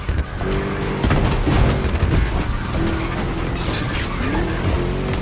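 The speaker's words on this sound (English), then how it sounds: "Just listen to that V8, like a chunky, down-tuned guitar riff" A Ford Mustang V8 in the racing game The Crew Motorfest growls loud and close, a steady throaty roar that surges and shifts pitch as it pulls through gears, with faint tyre and mechanical noise.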